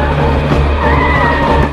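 A speeding taxi brakes suddenly in a film sound effect, its tires skidding. The screech is loud, close and continuous, layered over a heavy engine roar for a brief burst.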